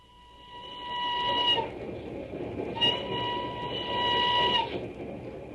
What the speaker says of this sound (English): Oh, Dizzy, it's just this stuffy old train.